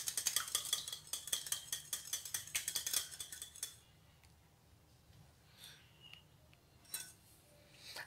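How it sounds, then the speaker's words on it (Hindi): A whisk or spoon mixing vanilla essence into cupcake batter in a bowl, a quick run of close, rhythmic clinking strokes for a few seconds, then quiet with a few soft scrapes. "अब इसको मैं अच्छे तरीके से मिक्स कर लूँगी।"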